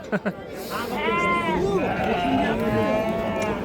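Several sheep bleat up close, overlapping wavering calls in a busy pen at a livestock market in Korgontepa, Andijan, with people talking in the background.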